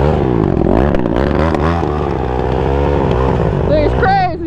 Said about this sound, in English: Bro, we got a slam dirt bike over here.